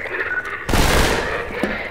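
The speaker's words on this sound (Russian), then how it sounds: "Скотина стреляют." Sudden burst of dense gunfire in the Half-Life 2 video game, a loud fusillade of overlapping shots erupting midway and lingering with rumbling echo.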